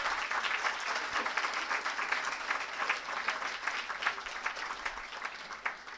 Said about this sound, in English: A big applaud for them.